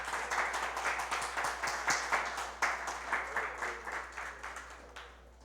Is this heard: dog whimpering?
no